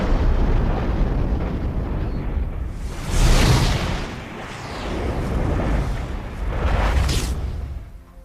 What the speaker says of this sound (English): A nuclear explosion.